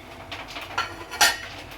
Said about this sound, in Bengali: আপনাদের দেখানোর জন্য আমি ঢাকনাটা একটু তুলে দেখাচ্ছি